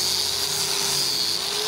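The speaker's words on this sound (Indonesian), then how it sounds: "Ini sudah kering dan saya gerinda teman-teman." A grinder works over hardened homemade wood filler, made from wood flour mixed with wood glue, on wood. It gives a loud, steady, high-pitched whine that runs unbroken and close.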